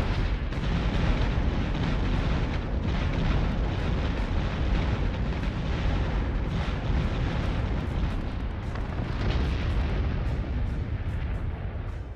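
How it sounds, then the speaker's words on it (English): Incoming missiles explode in a Battlestar Galactica: Deadlock space battle, heard as a continuous, heavy booming rumble of blasts that stays loud and dense throughout. "Missiles incoming!"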